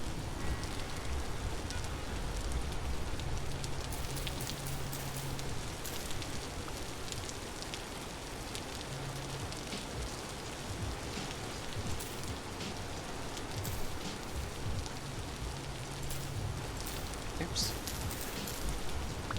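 Rain in the video game Vintage Story patters steadily for the whole stretch, with a continuous hiss of drops and a low hum underneath, while a voice briefly speaks over it.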